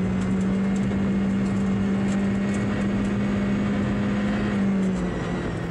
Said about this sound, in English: Listen to the car, nearly on the limiter.